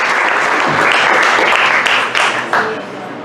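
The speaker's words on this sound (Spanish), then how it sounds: "Yo invito a todos que hagamos un aplauso por Luis Tejada" Audience applause at an event honoring the centenary of writer Luis Tejada at the Ateneo, a dense, loud, steady clapping that carries through the whole stretch and thins slightly near the end.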